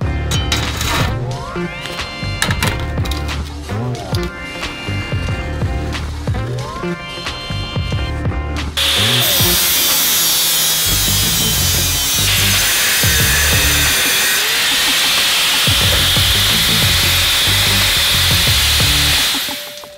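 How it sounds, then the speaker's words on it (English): A cutoff wheel slices through a diamond plate floorboard during a 5-speed racing kart build. A loud, steady high-pitched grinding whine runs continuously and close up, after what sounds like other shop noise. "probably a cutoff wheel to do the cutting"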